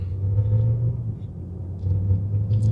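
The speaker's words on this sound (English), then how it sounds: "So we're just going to be going over some speed bumps, good real world test to see what we're like over these." A BMW M3 Competition G80 rolls over speed bumps, giving a steady low engine and road rumble heard from inside the car, with slight swells as the wheels cross the bumps.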